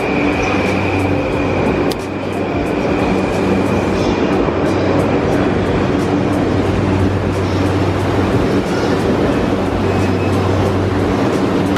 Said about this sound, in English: that train was actually a test run, so nobody can even get on the train